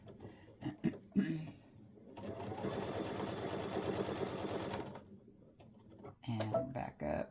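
A sewing machine runs a steady, fast stitching burst of about three seconds along a seam on embroidered placemat blocks, guided by a quarter-inch presser foot, with a voice talking just before and after the run.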